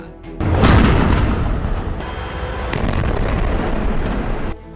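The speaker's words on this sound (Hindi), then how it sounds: "इजराइल की सेना ने यहां मिले विस्फोटकों को उड़ा दिया" Explosives detonated by the army in northern Gaza: a loud deep blast erupts and rumbles on for several seconds, with rolling low booms and debris-like crackle before fading out.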